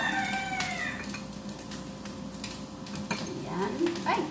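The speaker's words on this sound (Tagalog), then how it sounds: "Ayan, gising na yung manok." A rooster crows in the distance, rising and falling calls faint under a constant background hiss and kitchen noise, with a clearer crow toward the end.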